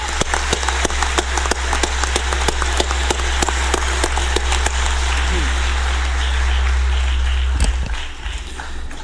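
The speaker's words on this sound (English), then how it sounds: "Let's give them a round of applause again" Audience applause for a children's orchestra performance at a live event, a sustained burst of clapping with sharp individual claps standing out near the mic over a steady low hum, fading near the end.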